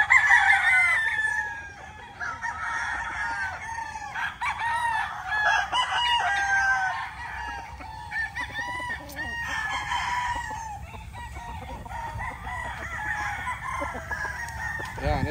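White Kelso roosters crow repeatedly at a farm, with overlapping cock-a-doodle-doos and clucking from nearby and farther birds, continuous over a low outdoor background.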